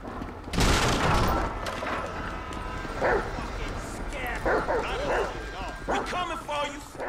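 Chop the dog barks repeatedly in GTA 5 during a chase, loud yips and barks mixed with gunfire-like bursts and a busy game soundscape while someone talks over it.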